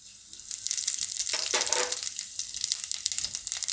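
Cumin seeds dropping into hot oil, breaking into a crackly sizzle that swells and then settles into a steady hiss, fairly quiet and close.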